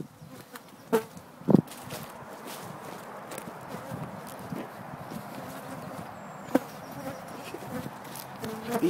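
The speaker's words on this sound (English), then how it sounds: "today we're working on bees" Honey bees buzz steadily and densely around a hive being removed by a pest-control worker in a protective suit, with a few sharp knocks and scuffs from the work breaking through the close swarm drone.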